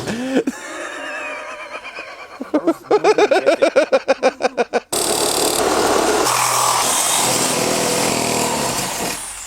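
A Sawzall reciprocating saw with a metal blade cuts through a wheel, with short rapid buzzing bursts followed by a loud, sustained grinding rasp of blade on metal. It is close up.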